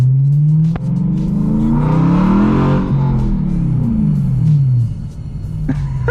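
A BMW M3 with a loud exhaust revs hard on the street, its engine note climbing and falling through repeated loud sweeps, a deep rumbling roar heard up close from inside the car.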